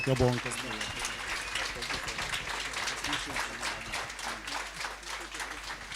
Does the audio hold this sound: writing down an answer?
no